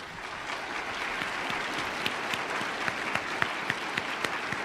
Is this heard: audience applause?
yes